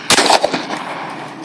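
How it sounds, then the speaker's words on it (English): A gunshot fired at a cantaloupe target outdoors, a single loud sharp crack followed by a decaying echo. "Shoot the cantaloupe?"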